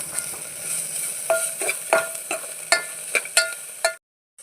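Onions and ginger frying in a pan on a low flame, a bright hiss punctuated by rhythmic scraping stirs of a spatula, close and loud, cutting off abruptly at the end.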